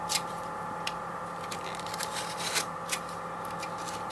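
Drywall being cut out around a patch area, a close series of short scratchy rasping strokes in an irregular rhythm over a steady low background hum.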